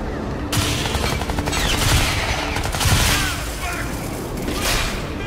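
Rapid, loud gunfire from the video game Crysis 3 crackles in dense bursts almost throughout, with a player talking over the shooting.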